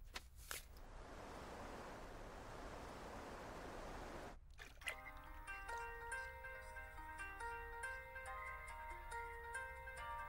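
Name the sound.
phone ringing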